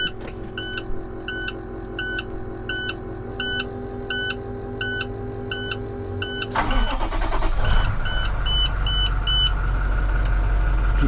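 A snowplow truck sits idling with repeated electronic dash chimes and beeps, then its engine cranks and starts with a loud surge near the middle, settling into a steady, close, louder rumble.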